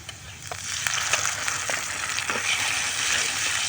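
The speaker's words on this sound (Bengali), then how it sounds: "এবার বেটে রাখা মশলাগুলো দিয়ে দিব" A ground spice paste of cumin, garlic, onion and green chilli hits half-fried onions in a hot wok with a steady close sizzle and scattered crackles, continuous and without talk.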